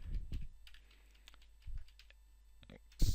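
Keystrokes on a computer keyboard, close and clear, arriving in short irregular clusters of clicks with quiet gaps between them.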